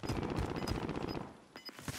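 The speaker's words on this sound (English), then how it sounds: "Some gunfire in front of us." Rapid automatic gunfire from the video game Warzone, dense bursts of shots that fill the first second and a half, then pause and return in shorter bursts.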